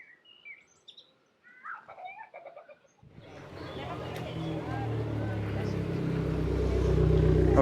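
A car fitted with a loud modified exhaust climbs a hill, its deep engine rumble swelling in and growing steadily louder after a few seconds of brief talk and faint birdsong.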